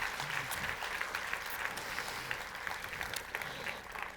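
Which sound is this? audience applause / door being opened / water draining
audience applause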